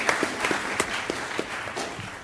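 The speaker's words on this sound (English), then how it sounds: "Go ahead and clap." Scattered claps in a board meeting room, with sparse, uneven individual hand claps sounding from a small group against a steady background for a couple of seconds.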